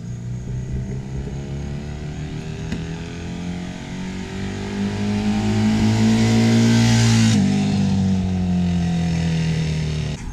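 A Honda CB750 motorcycle engine idling and revving, a loud close rumbling drone that swells in pitch and volume midway, holds high, then drops back toward idle.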